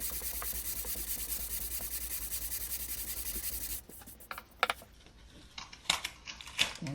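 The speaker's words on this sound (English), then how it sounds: "This fretboard happens to be Crelicum ebony, and these are radius sanding blocks." Sanding of a Crelicum ebony guitar fretboard with a radius sanding block, a soft continuous rubbing rasp for several seconds, then stopping, followed by scattered small scrapes and handling taps.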